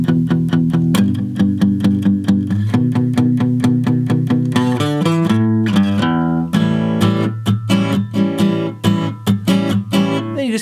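Acoustic guitar plays the build-up into the instrumental section of a song, a 12-bar blues in E: steady strummed chords with a walking bass riff, loud and close, rising into brighter driving strums.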